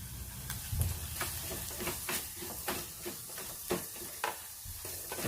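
Turmeric and chili powder sizzle steadily in hot oil for a Kerala ginger curry, with a constant bright hiss broken by a few soft stirring scrapes and clicks, close and alone with no talking.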